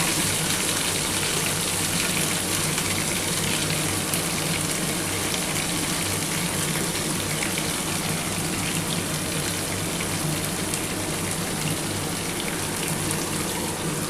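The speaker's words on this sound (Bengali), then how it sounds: "এর মধ্যে সামান্য অল্প একটু জল দিয়ে ঢেলে দেবো।" Water is poured into a pan of ground tomato paste for a dhaba-style paneer tikka masala, giving a steady, loud, rushing splash that lasts throughout, with no voices.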